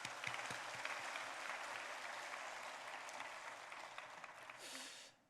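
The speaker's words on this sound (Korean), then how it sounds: "그냥 박수 한번 보내줄까?" A church congregation gives a sustained round of applause during a Korean Sunday service, a soft but dense crackle of many hands. It holds steady for several seconds, then tapers off quickly at the end.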